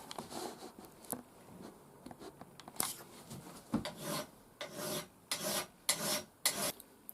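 A Mora knife blade rasps against a black extra coarse TMT diafold diamond plate in a string of short, close scraping strokes, sparse at first and then coming in quicker bursts, with no talking.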